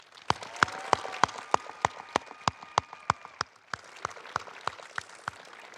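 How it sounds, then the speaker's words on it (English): Applause at the Pine Grove Area High School 2023 commencement: crisp, evenly spaced claps ring out in a steady rhythm, fairly faint and distant in a large hall. "Please join me in giving Avery a round of applause."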